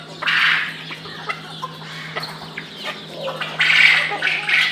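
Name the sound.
Italian White chicken clucking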